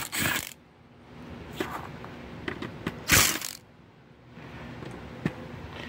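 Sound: removing screws from Ethernet switch circuit board

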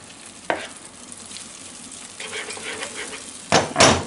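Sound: egg cracked into pan with bacon sauce

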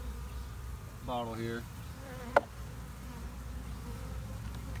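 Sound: honey bees buzzing during a mite check

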